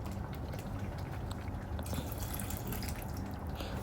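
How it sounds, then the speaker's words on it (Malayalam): Water pours into a pot of varutharacha sambar, a steady, close splashing trickle that thickens partway through, with no voices. "കുറച്ച് വെള്ളം ഒഴിക്കുക"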